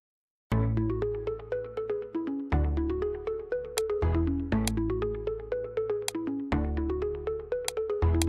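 A phone rings in a repeating electronic melody: bright chiming tones in four even phrases of about two seconds each, fairly loud and steady, with no voices over it.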